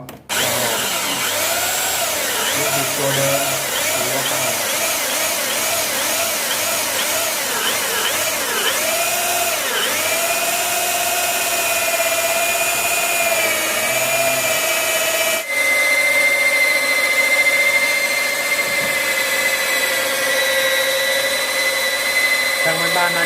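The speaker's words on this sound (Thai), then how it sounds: "ครับนี่ครับ เจาะลูกบิด เนาะ" A power drill bores a hole for a door knob in a door, a loud, continuous whirring whine that wavers in pitch as the bit bites and then settles into a steadier, higher drone.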